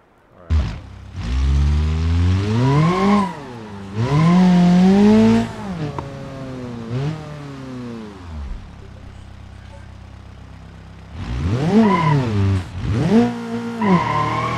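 A loud car engine in the video game BeamNG.drive revs up and down in long surging bursts, with a pause in the middle before it roars again.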